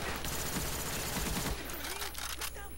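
Rapid gunfire rattles in the Black Ops video game on the Hanoi map, a dense burst of shots for about a second and a half, then scattered fainter sounds.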